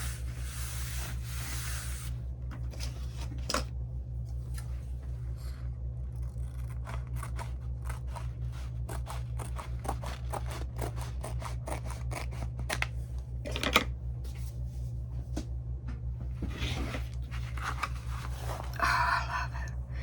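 Scissors snip through a journal's paper cover to trim it to size, giving a run of sharp, close cuts over a steady low hum, with a brief louder rustle near the middle and some handling noise toward the end.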